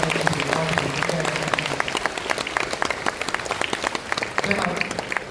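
An audience at a primary school graduation ceremony applauds, dense and continuous clapping that holds steady throughout.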